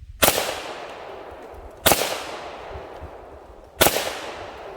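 Three loud gunshots fired at a can, about two seconds apart, each a sharp crack with a decaying outdoor echo.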